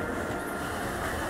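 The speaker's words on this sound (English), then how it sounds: "Miss this train, there's no telling when the next will be." A train in Final Fantasy VII Remake rumbles along in a steady, unbroken drone with a broad hiss of rolling noise, constant in loudness for a little over a second with no voices.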